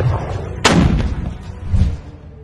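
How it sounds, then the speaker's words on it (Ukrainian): Artillery fire on a frontline, a sharp booming blast landing partway through and rolling off into a rumbling tail, with a duller thump of further firing following, no talking. "наша артилерія не дає їм спокою."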